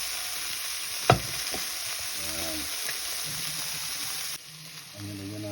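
Pork sizzles and fries in a pan with tomato, onion, garlic and ginger, a steady crackling hiss throughout with a sharp clack near the start and occasional stirring, while a voice murmurs faintly in the background.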